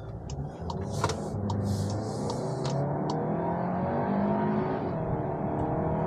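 A 2023 Volkswagen Arteon with a dual-clutch DSG gearbox pulls hard under full throttle, engine drone rising steadily in pitch inside the cabin with a brief lull, then climbing again, with no talk.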